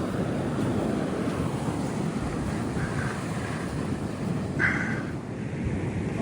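Strong wind sweeps across a beach beside the dunes on a coastal walk, a dense constant roar of gusts and surf close to the microphone, unbroken throughout with no voices.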